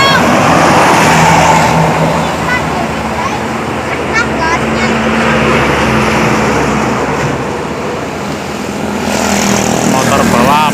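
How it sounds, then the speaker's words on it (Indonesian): A Sinar Jaya bus overtakes on the Ajibarang-Bumiayu main road, a steady loud rush of engine and road noise swelling near the end, with people talking over it. "Ada bus nyalip."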